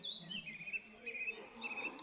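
Birds sing in clear, close whistled phrases, sliding chirps repeating over a quiet background, with no talking.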